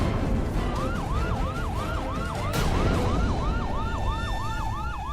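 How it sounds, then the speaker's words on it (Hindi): A loud police siren yelps in steady repeated sweeps, close by, with a deep engine rumble underneath. "ये सायरन की आवाज सुन रहे हो तुम दोनों?"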